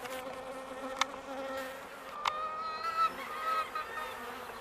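Upset honey bees from a single hive buzz loudly and close during a honey harvest, a dense steady drone with individual bees whining past and a couple of sharp clicks.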